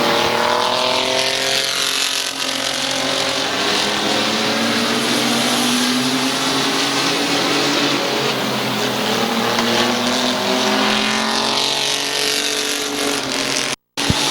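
Race cars roar around the oval at Midvale Speedway, engines loud and continuous with rising and falling pitch as they sweep past, over and over.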